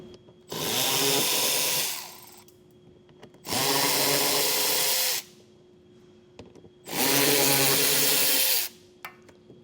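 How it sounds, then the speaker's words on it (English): Three bursts of a power drill fitted with a 7mm socket, each about two seconds long, pull screws from a 2024 Ford Maverick while a Blue Ox base plate is being fitted. The whine rises and then cuts off between quiet pauses. "Now I'm going to take a 7mm socket and get these screws out of here."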